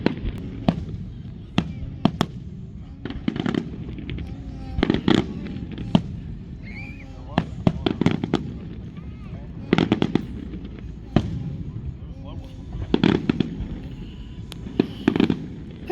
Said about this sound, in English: I love the fireworks.